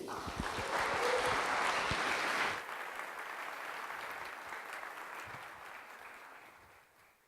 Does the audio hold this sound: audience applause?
yes